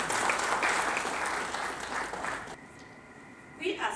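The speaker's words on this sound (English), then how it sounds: "let's give a big round of applause to Saro as they come" An audience claps for presenters from Saro Agro at a starter pump launch event in Zambia, a moderate burst of applause that fades out partway, followed by near quiet and a brief sound at the end.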